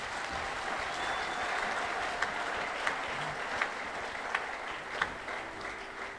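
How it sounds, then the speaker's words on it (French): A church congregation bursts into sustained applause and acclaim for the Lord, a dense steady roar of clapping with a few sharper claps standing out near the end. "Est-ce qu'on peut acclamer le Seigneur?"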